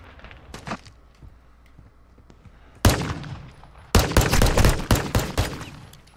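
Video game gunfire: a faint early pop, then a single loud close shot, followed a second later by a rapid string of loud shots that taper off, with no talking over them.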